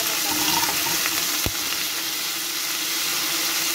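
Onion, carrot and tomato frying in hot oil in a pressure cooker pot, a loud, continuous crackling sizzle with the sound of stirring and a brief sharp knock of a utensil midway.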